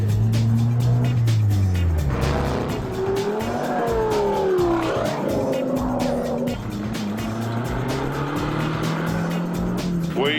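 Rally car at TARGA Tasmania pulling away hard, engine rising through revs with gear changes and some tyre squeal, loud and close throughout.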